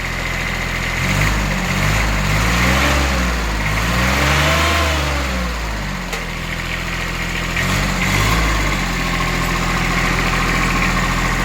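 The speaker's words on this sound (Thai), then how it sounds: "เบิ้ลเครื่องหน่อย" A Japanese tractor diesel engine, newly fitted to an A-155 tractor, idles steadily, then revs up and down in two surges, the pitch rising and falling before settling back to idle.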